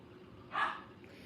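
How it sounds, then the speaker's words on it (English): A single short dog bark from one of the household dogs, heard faint and somewhat distant over quiet room noise. "So right now you hear the dogs barking."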